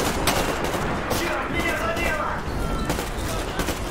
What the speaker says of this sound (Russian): Что, серьезно, стрельба?